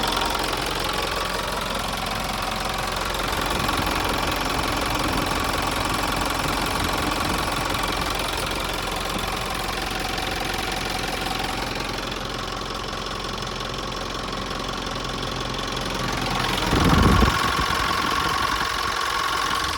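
A 2008 Isuzu NKR130 diesel truck engine idling steadily, a close, even knocking rumble that runs throughout with a brief louder surge near the end.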